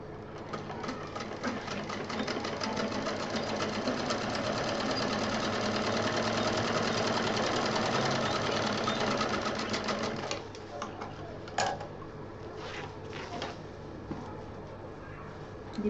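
A sewing machine stitches a zip onto a fabric pouch, running in a fast, steady mechanical chatter for about ten seconds before stopping, then a few clicks and handling noises follow. Someone speaks over it.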